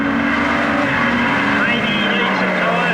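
A street stock race car corners on the Rushworth track. Its engine roars loud and close, with the pitch sagging as it pushes wide through the bend, and a commentator's voice sits underneath.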